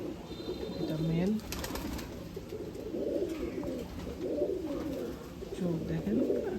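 A male pigeon of a Myanmar bloodline coos nearby in low, rolling repeated calls, with someone talking over it and faint background noise throughout.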